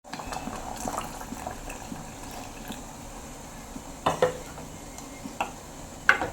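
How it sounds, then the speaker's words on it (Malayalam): Water is poured and stirred in a mixer grinder jar, with a soft steady wash of sound and a few sharp clinks of a spoon against the side near the end. "കുറച്ച് വെള്ളം നമ്മൾ ആ മിക്സിയുടെ ജാറിലേക്ക് ഒഴിച്ചു കൊടുക്കാം. നമുക്കത് ഇളക്കി കൊടുക്കാം."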